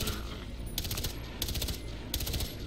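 Gunfire in Far Cry 3: Blood Dragon, fairly quiet rapid bursts of shots repeating in short clusters over a steady game background, with no talk.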